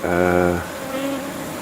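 A loud, close insect buzz with a steady harmonic drone from honey bees fanning at a hive entrance in the evening, fading to a softer hum.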